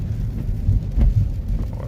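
Heavy rain while driving to run errands, a dense low steady roar of rain and road rumble inside a car, continuous with no speech.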